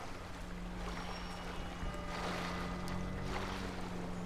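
Waves surge through the flooded city during a tsunami mod in GTA V, a steady wash of water and wind with a low constant hum, fairly quiet and without voices.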